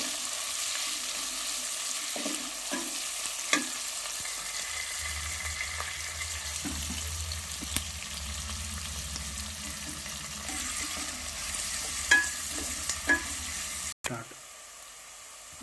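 Onions for mutton biryani sizzle and fry in a pan, stirred until golden, with a steady hiss and occasional scraping clicks throughout, close and moderately loud, ending abruptly near the end.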